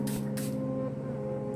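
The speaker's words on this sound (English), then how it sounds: "8 to 10 sprays counterclockwise, because it's not a continuous spray, it's a pump spray" Two short hissing bursts from a handheld pump spray bottle misting onto the face, near and fairly loud over a steady low hum, the second puff following quickly after the first.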